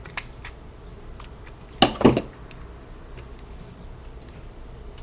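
Scissors snip paper for an art project, a couple of close, sharp cuts in quick succession amid quiet room tone and a few faint ticks.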